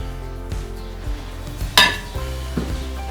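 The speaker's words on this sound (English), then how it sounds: "we continue to work down our sieves as it continues to get finer and finer." Sand is shaken through a stack of lab sieves, producing close metallic rattles and clinks with a brief hissing rush of grains partway through.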